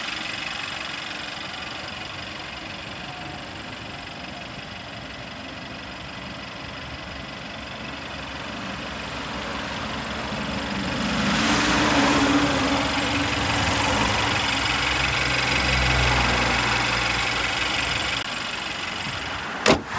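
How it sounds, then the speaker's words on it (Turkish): A Mercedes E180 with a fault that stops it passing 100 km/h, its engine running at a steady idle with a faint knocking undertone, swelling briefly louder midway before settling again. "aracın motor çalışma şekli bu şekilde"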